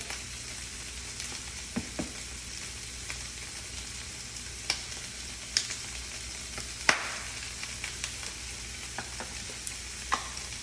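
Broccoli seasoned with salt, pepper and garlic powder sizzles steadily as it is sautéed in a pan, with scattered clicks and scrapes from occasional tossing over a constant hiss.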